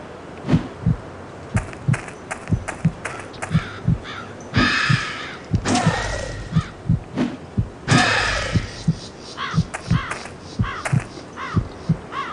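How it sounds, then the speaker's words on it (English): Summoned crows caw repeatedly in the Sanitarium video game, their harsh calls layered over a steady thumping pulse of combat hits, with denser bursts of cawing mid-clip. "Summon these crows."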